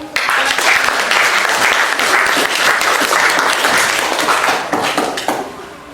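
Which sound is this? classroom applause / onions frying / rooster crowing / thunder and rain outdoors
classroom applause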